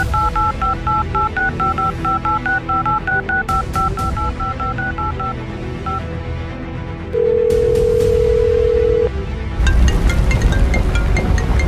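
A run of touch-tone telephone dialing beeps in a cartoon, quick evenly spaced tones followed by a steady ringback tone, with loud background music and noise throughout.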